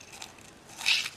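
Backing peeled from tear tape gives a brief, close, crackly rasp that swells near the end, soft and short with no talk.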